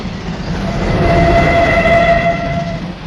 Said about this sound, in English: I can hear a train, I think.